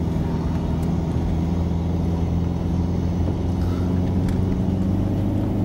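A Saab 9-3 Sports Combi with a 1.9 TiD diesel engine and front-wheel drive accelerates uphill on a winter road, its engine droning steadily and loudly under continuous cabin rumble and road noise, without talk.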